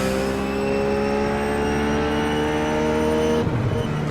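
A Ruf GT3 race car in the iRacing video game accelerates at Brands Hatch, its engine note climbing steadily and loudly through the gear, then breaking off with a sharp shift or lift near the end.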